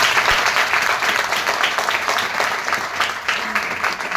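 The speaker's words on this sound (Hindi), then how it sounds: "अगर हम सही है तो एक बार हमारे लिए और हमारे सिस्टम के लिए जोरदार तालियां" Enthusiastic audience applause at a motivational speaking event, a dense, steady wash of many hands clapping that stays loud and close for the full length, with a faint murmur of voices underneath.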